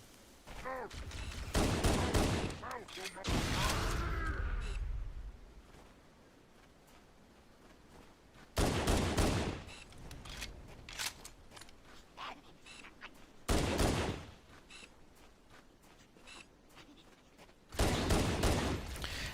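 Gunfire bursts from a plasma pistol and a pistol in the Halo video game, several loud volleys separated by quieter gaps with distant game ambience.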